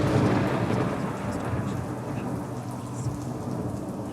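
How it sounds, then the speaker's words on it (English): Heavy torrential November rain pours in a dense steady roar with rumbling thunder and gusting wind, a constant loud storm wash throughout. "November came with strong winds and torrential rains."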